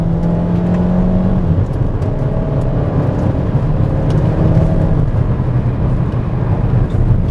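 Hyundai Kona 1.6 Turbo accelerating hard in Sport mode, a steady loud engine drone whose tone climbs through the gears with brief dips at shifts, heard from inside the car with no talking.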